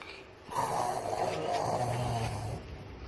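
A person mimics a snore with the voice, a single drawn-out rasping, snorting inhale lasting about two seconds, close and fairly loud against a quiet room.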